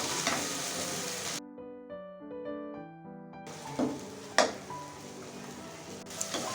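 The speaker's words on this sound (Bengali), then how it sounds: "এই তো মশলাটা এখন একটু ভালোভাবে কষিয়ে নেব।" Masala of ground coriander and turmeric frying in oil in a pan for a bottle gourd and snakehead fish curry, a steady close sizzle with a few sharp spoon clacks against the pan, alongside a passage of music.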